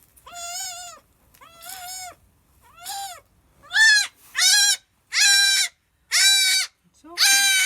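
A young goat bleats loudly again and again, the cries growing stronger and more insistent, close by with short pauses between each call.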